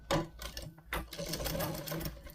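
Sewing machine stitching along a suit sleeve, close rapid mechanical chatter in short bursts with brief pauses between runs.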